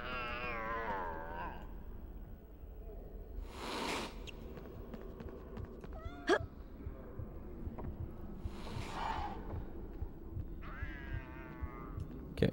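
Cat meowing in the Harry Potter and the Sorcerer's Stone video game, several separate meows spread over a busy in-game background of ambience and effects.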